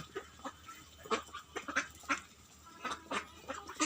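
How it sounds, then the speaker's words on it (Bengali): Soft, repeated quacking and pecking sounds from a duck eating corn, irregular short bursts close by with quiet gaps between them. "কীভাবে ভুট্টা খাইতেছে আপনারা দেখেন ভালোভাবে খুব মজা করে ভুট্টা খাইতেছে"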